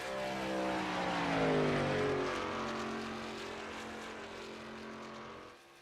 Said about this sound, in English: making his way around the speedway, trying to lay down his qualifying lap